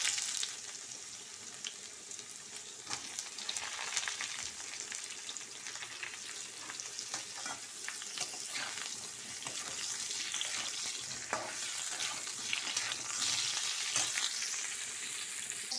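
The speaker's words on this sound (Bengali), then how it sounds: "এর সাথেই আমি কাঁঠালগুলোও ভেজে নেব।" Jackfruit pieces fry in hot oil with potatoes, a close, continuous sizzle with crackling bursts and occasional stirring scrapes, steady throughout with no talking.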